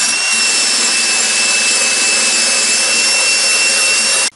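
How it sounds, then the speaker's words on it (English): A wire wheel whines steadily at a high pitch as it brushes rust off an antique Millers Falls miter saw, a loud, close grinding hiss that runs unbroken for about four seconds and then stops abruptly. "I'm just going to have a look-see to see how much will come off with just a simple wire wheel here"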